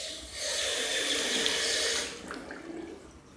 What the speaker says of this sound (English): The water's going down as fast as I put it in.